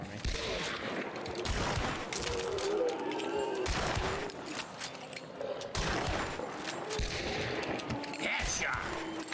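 Repeated gunfire in the video game Hunt, sharp bursts and volleys spread through a busy, loud battle soundscape with brief voices mixed in.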